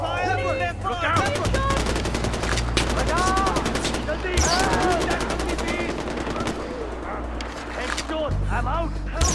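Sustained gunfire in Far Cry 4 at a monastery: rapid automatic bursts and scattered shots crack on almost without a break, loud and close, while voices shout over the fighting.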